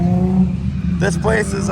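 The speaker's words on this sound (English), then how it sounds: "there's still cars drifting" Cars drift on a go-kart track, a steady engine drone with faint tire noise running underneath as someone speaks briefly over it.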